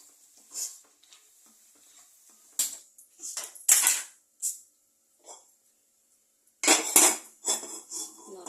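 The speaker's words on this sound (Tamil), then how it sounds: "மிக்ஸ் பண்ணிக்கோங்க கொஞ்ச நேரம் இந்த பச்சை ஸ்மெல் போய் வெங்காயம் தக்காளியெல்லாம் நல்லா வதங்கட்டும்" A spoon clinks and scrapes against a kadai while onions and tomatoes are stirred for chicken masala fry, in a few separate bursts of metallic clatter with quiet gaps between.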